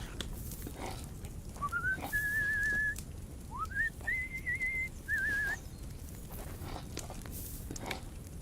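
A person whistles in the medieval game Kingdom Come Deliverance 2, giving several short rising then held tones in a clear sequence over quiet outdoor ambience.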